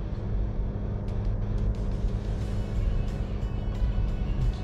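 A 2020 VW Polo 1.6 automatic engine hums steadily from the cabin while gears are shifted manually, a continuous low drone with faint clicks and no talk.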